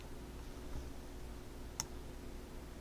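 A single mouse click on a software button, one short faint tick alone over a low steady background hum, with no talking.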